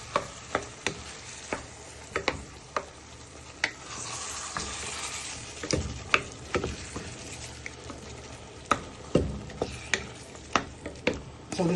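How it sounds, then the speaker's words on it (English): A wooden spoon stirs and breaks down tomatoes in a pan, making repeated sharp knocks and scrapes at a steady rhythm. A soft sizzle runs underneath, close up with no talking. "So just give them all a good stir and just break them down with your wooden spoon"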